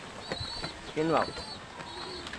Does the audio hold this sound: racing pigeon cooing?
yes